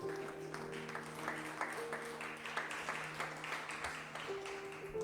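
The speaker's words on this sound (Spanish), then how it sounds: "Denle palmas al Señor." A church congregation claps for the Lord during a Spanish-language sermon, a steady, fairly faint patter of hands lasting throughout, with organ or keyboard tones held underneath.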